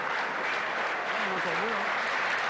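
Applause from a crowd at the 1995 Trophée Canal+ pétanque final between Foyot and Weibel: steady dense clapping through the whole stretch, with a brief tonal voice or whistle rising through the middle.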